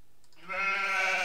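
A single sheep bleats in a real-time strategy game, a loud, close, wavering call that starts suddenly and holds for under a second.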